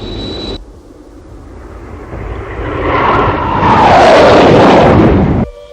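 A stolen MiG-242 jet aircraft roars past, a loud engine whoosh that swells from a low rumble to a powerful, close peak and then cuts off sharply, with no voices.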